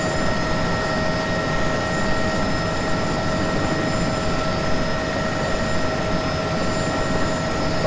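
A helicopter flies a crop-dusting run with its sprayer on in a desktop flight simulator, giving a loud, constant rotor and engine drone with steady tonal whine and no pauses.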